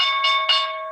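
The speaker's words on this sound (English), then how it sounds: "stupid bell." A bell rings three quick, bright strikes in succession with a sustained metallic ringing tone that decays smoothly, loud and close with no talk.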